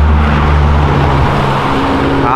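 A BMW M5 or M6 on an avenue, its engine roaring loudly and close with a deep steady drone that drops in pitch as the car downshifts, the rumble continuing to the end.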